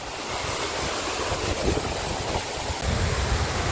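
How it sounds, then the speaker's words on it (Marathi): The large Siddheshwar waterfall pours down in a dense, continuous roar of rushing water that stays loud and steady throughout, with no voices. "सो आता मी तिकडे आहे जिथून सिद्धेश्वरचा मोठा धबधबा खाली पडतो."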